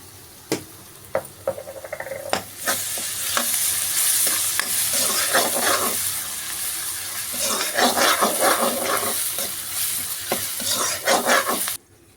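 Crushed garlic and ginger frying in a pan for capsicum thokku, a steady close sizzle with scraping stirs and clinks, swelling louder midway and cutting off abruptly at the end.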